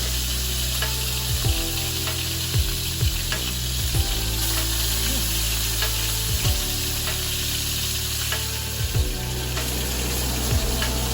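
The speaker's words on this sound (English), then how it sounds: "I'm adding some butter, a couple tablespoons of unsalted butter for me, thyme, fresh thyme, minced garlic" Unsalted butter with fresh thyme and minced garlic sizzles steadily in a pan beside filet mignon, a constant loud frying hiss with occasional scraping and utensil taps throughout.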